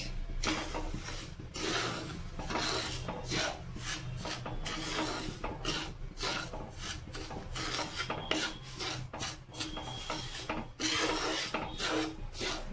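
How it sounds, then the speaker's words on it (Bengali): Semolina is stirred in a pan with continuous rhythmic scraping and rasping strokes, close and steady for the whole stretch, with no voices. "ভালো করে আমি একটু নেড়ে চেড়ে নেব 2 মিনিট"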